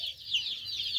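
A crowd of mixed-colour mountain chicks in Qashqadaryo cheep continuously in high, wavering calls, close by and fairly soft, with no voices.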